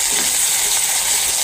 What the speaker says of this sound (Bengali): তো পেঁয়াজ এখন হালকা ভাজ হয়ে গেছে